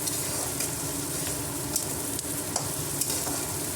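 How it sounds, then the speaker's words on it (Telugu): Onions or spices frying in a pan over high stove heat with turmeric added, ahead of potatoes for aloo fry: a steady, dense sizzle with scattered crackles and stirring clicks, close and alone. "గోల్డ్ కలర్ వచ్చే వరకు ఫ్రై చేసుకొని ఆలుగడ్డలు వేసుకుందామండి"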